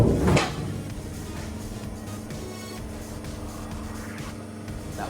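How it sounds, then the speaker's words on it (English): A work light topples over in a home garage during car repairs, a short loud clatter right at the start that quickly fades into a low, steady background hum. "That was my light falling."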